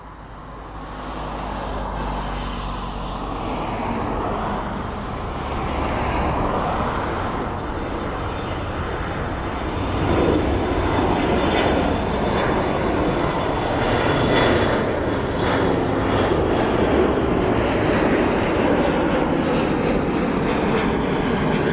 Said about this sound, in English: We've got an aircraft taking off.